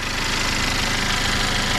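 The 2.0-liter turbocharged four-cylinder engine of a 2023 Genesis G70 idles close by with the hood open, a steady, dense mechanical hum with even vibration throughout.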